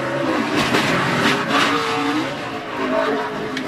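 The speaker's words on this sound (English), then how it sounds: "That car just stepped out a lot like it did Saturday night, Mike, when somebody got alongside of it." A NASCAR stock car in a race loses grip and slides, tires squealing over a continuous roaring engine, loud and close for a few seconds with no talking.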